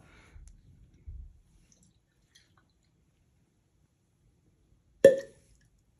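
A cork pops from a tightly sealed Willet bourbon bottle in a single sharp, close report, with a couple of soft low thuds of handling earlier and near silence in between.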